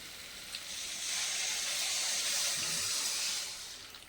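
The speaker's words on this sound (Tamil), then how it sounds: "கொஞ்சமாக தண்ணி விட்டுக்கலாம்" A little water poured into a pan of dried fish gravy, a steady close hiss and trickle swelling and fading over a few seconds, with no one speaking.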